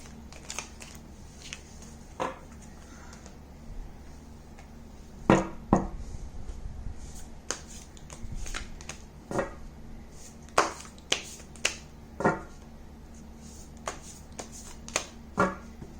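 Tarot cards are shuffled by hand without folding, producing a series of soft, crisp riffles and taps that come in irregular short bursts at close range over a faint background hiss.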